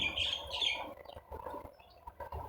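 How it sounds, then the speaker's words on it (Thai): Faint, high chirps and tweets of birds sing outdoors at a distance over a soft, steady background hiss. "บรรยากาศสดชื่นดีเสียงนกร้อง"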